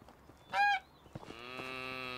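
A cow in the farming video game Medieval Dynasty gives a short, loud nasal call followed by a sustained, droning lowing note, heard close with no talking.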